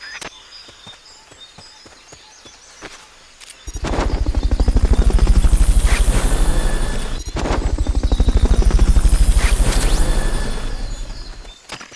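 Fulton recovery helicopter from Metal Gear Solid Peace Walker arrives after a few quiet seconds, its loud, steady rotor chop filling the rest of the clip with a brief dip midway.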